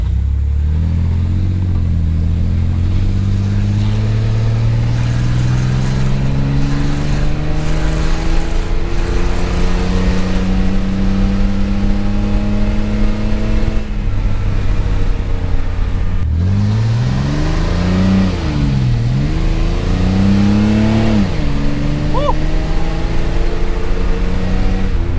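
A Chevy S10 pickup truck, just fitted with a new ignition, drives and accelerates, its engine note rising and falling in loud, steady harmonic sweeps with shifts between gears, close to the microphone with no talk.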